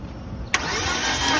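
A car engine cranks briefly during a cylinder compression test, with a sudden close-up burst of starter noise after a faint, quiet moment.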